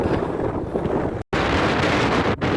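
Strong wind roars and buffets the microphone continuously at the Wanlockhead lead mines, loud and rumbling, broken by a brief dropout of total silence partway through.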